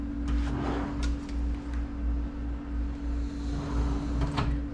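A dresser drawer in a newly refurbished Port Orleans French Quarter hotel room slides with a few soft knocks and scrapes, heard up close over a steady droning room hum with no talking.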